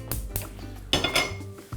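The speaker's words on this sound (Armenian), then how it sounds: "Գործ ենք դնում փոքրիկ կաթսան" A small metal pot is set down on the stove, a few sharp clanks and clinks of cookware in quick succession, close and alone.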